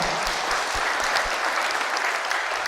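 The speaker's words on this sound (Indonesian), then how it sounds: "Tepuk tangan untuk Wihara Ekayana Serpong" Audience at a Buddhist service at Wihara Ekayana Serpong breaks into dense, sustained applause, many hands clapping in an even roar from start to finish.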